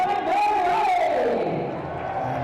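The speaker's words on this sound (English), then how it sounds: "the crowd starting to fill up a Saturday night in the sunshine at Edgbaston" Cricket crowd filling Edgbaston on a sunny Saturday evening for a Bears v Notts Outlaws T20 Blast match: a dense, continuous roar of many voices with a rising and falling shout running through it, loud and close.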